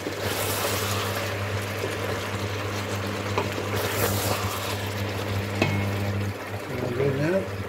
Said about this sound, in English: and it's frying.